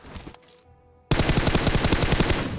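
Rapid automatic gunfire in the mobile battle-royale game PUBG Mobile, a sustained loud burst of evenly spaced shots after a brief quiet lead-in with a few faint earlier clicks.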